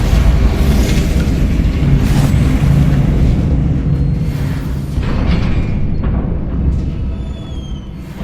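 Repeated spell explosions from Bombarda and Confringo in Hogwarts Legacy give a steady, loud low rumble with dull booms rolling one into another, with no clear speech over them.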